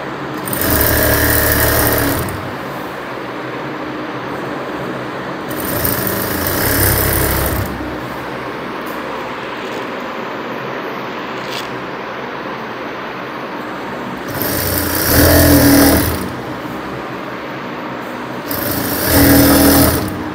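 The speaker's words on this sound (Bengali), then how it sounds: "এখানে আর একটা সেলাই দিয়ে নেবেন, ডাবল সেলাই" A sewing machine stitching a double seam on a Patiala pajama, running in loud bursts of steady mechanical whirring with a quieter motor hum in the pauses between runs.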